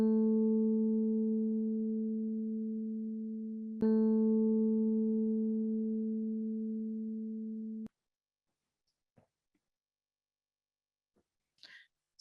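Piano playing middle A, 220 hertz: a clear sustained tone struck twice, each ringing and slowly fading before stopping abruptly, followed by faint scattered small noises.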